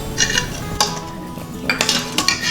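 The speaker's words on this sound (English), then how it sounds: "I'm going to give it a good mix and add some cilantro on top" A spoon scrapes and clinks against the metal inner pot of an Instant Pot while cooked chole, a chickpea curry, is stirred, giving a few bright taps and scrapes.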